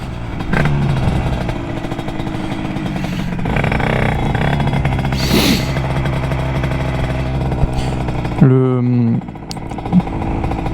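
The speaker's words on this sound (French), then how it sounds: "au ralenti, elle accélère toute seule" A prepared Derbi moped engine with an overtight throttle cable revs up on its own at idle, droning loud and steady throughout, with a person talking over it.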